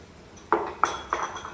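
Onions going into a frying pan and being stirred for a pork ribs, sausage and polenta dish give three sharp, close metal clinks of a utensil against the pan over a quiet background.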